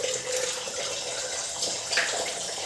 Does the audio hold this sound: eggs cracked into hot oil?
yes